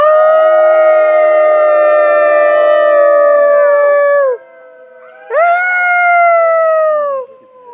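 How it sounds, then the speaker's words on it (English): A group of people and a wolf howl together on a guided tour, long wavering sustained tones rising and falling loudly for about four seconds, a brief pause, then a second shorter chorus of howls. "Now you can tell everyone you've howled with a wolf."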